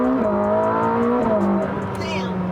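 Ferrari SF90XX hypercar pulling hard at half throttle, a steady loud engine tone rising in pitch from close inside the cabin, with a brief shift midway and faint talk underneath.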